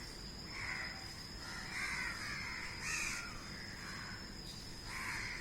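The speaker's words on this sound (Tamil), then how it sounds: "பறவைகளுடைய கூக்குரல் கேட்கிறது" Crows caw in short bursts over a steady drone of insects, the calls fairly distant and soft against the quiet background.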